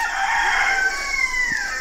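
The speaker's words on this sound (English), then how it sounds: "He's a young rooster. We haven't heard that crow in a long time." A young rooster crows once in a short, strained, slightly cracking call, near and clear against quiet farmyard background.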